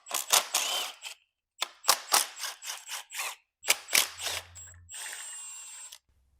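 A ratchet clicks in quick bursts of rapid pawl ticks, close and crisp with short pauses, while the old tensioner is removed from a BMW X5 diesel timing chain, ending in a brief higher whirr.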